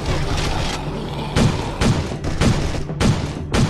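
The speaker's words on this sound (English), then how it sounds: "Gunfire's too loud." Rapid bursts of gunfire from a gun turret in the video game State of Survival: Zombie War crack out in a regular rhythm, about six sharp volleys over a low rumbling background, with no talking.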